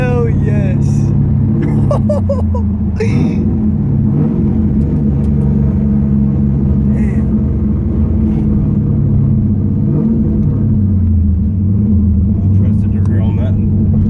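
A 4th gen Cummins diesel pickup with a freshly rebuilt rear end rumbles along at steady cruise, its low drivetrain drone continuous and fairly loud, while excited voices talk over it throughout.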